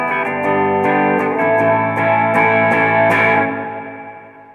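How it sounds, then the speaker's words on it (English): Electric guitar through a Line 6 Amplifi 150 amp with extra reverb added, a few picked chords and notes ringing out with a long hall-like tail that fades at the end, played alone. "So let's add a little bit more reverb,"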